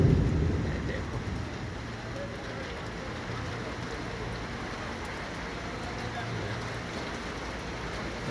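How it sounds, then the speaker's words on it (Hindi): Heavy rain pours steadily in Medina during a storm, a dense continuous hiss with low rumbling underneath that could be distant thunder, fairly loud and unbroken throughout. "ये मदीना शरीफ बहुत तेज़ बारिश हो रही है"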